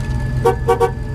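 Three short, light courtesy car horn toots, the first single and then a quick pair, over a steady low engine hum.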